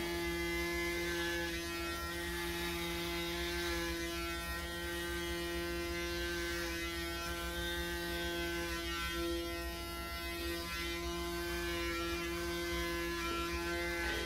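A Braun Series 9 9477cc electric shaver runs while shaving, giving a steady, faint, even buzzing hum that holds without pause for the whole stretch.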